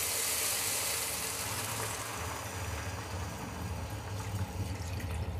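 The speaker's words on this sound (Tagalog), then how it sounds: "Lagyan natin ng tubig." Water pours steadily into a cooking pot for soup, a close, continuous splashing rush that softens and deepens as the pot fills, with no talking.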